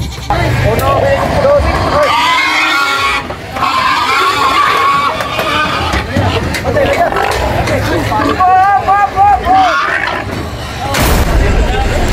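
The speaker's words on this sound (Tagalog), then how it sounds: "lalo na sa daming kambing nila" Goats bleating amid the crowd noise of a busy livestock auction market in Cebu, Philippines, with repeated wavering calls rising over a dense babble of voices and general hubbub throughout.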